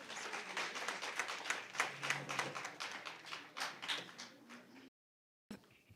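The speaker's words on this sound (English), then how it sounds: "Please give another round of applause, a bigger round of applause" Audience applause for a speaker at a 2024 debate round, a dense, steady patter of many hands clapping that runs for about five seconds and then cuts off abruptly into silence.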